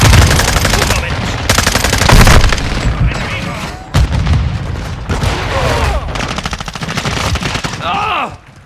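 Bursts of automatic gunfire and shotgun blasts rattle through a Call of Duty: Modern Warfare II match, loud and close, with rapid volleys broken by brief pauses and a shouted voice near the end.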